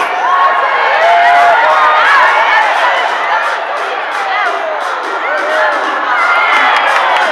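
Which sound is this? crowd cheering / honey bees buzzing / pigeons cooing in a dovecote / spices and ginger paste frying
crowd cheering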